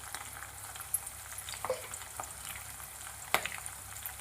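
Whole spices sizzle in oil in a pan as turmeric goes in for a tamarind pulihora paste, a quiet continuous crackle with occasional sharper pops and a stir clatter, no talk.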